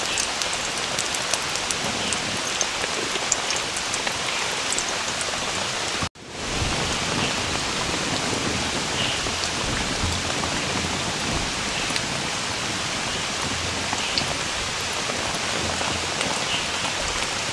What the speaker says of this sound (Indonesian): di luar tuh hujannya gede banget cuy